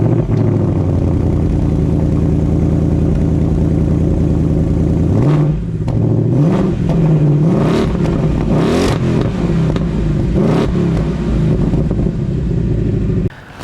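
Barra-swapped 1997 Ford Falcon EL drift car engine idling loudly, then revved in several sharp blips with rising pitch and clattering exhaust, close and dominant throughout.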